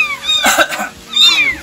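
A young cat meows loudly and close up, two drawn-out, rising-and-falling cries separated by a brief burst of rougher noise.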